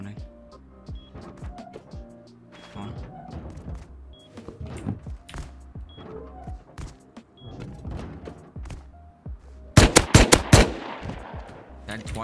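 Rapid gunfire from a SAR rifle during a raid in a survival video game, a dense burst of sharp cracks near the end following scattered game sounds and movement under ongoing talk.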